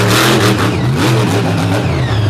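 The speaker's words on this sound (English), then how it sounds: "540 cubic inch Jansen horsepower built by Triton Robbins" A 540 cubic inch race car engine built for sprint-car racing revs loud and close with a steady low growl and rising pitch, continuous throughout with no talking.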